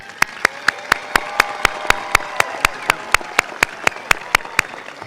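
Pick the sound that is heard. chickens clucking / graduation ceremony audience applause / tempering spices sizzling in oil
graduation ceremony audience applause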